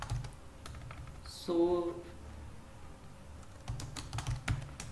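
Typing on a computer keyboard, a few scattered clicks near the start and a denser burst of keystrokes toward the end, heard under a man's brief speech.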